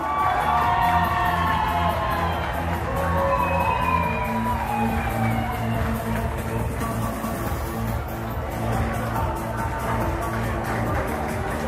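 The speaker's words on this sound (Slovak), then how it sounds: "veľký potlesk ešte raz pre trojicu výťazov a pre vás všetkých samozrejme" Festive crowd at a costume ball in Čaňa cheering and whooping for the winners, a loud, continuous mass of voices and shouts with music-like tones running underneath throughout.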